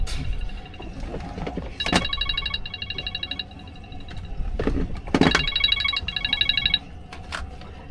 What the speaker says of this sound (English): Hunter's phone's ringing. That is loud.